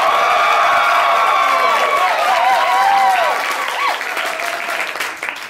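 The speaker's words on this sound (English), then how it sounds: "So, if you liked Tom's joke," A comedy club audience at a stand-up joke-off applauds and cheers, loud, dense clapping with whoops and shouts rising over it, then easing off toward the end.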